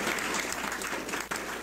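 A crowd applauding steadily at a Hindi comedy poetry gathering in Kanpur, dense clapping filling the room without a break.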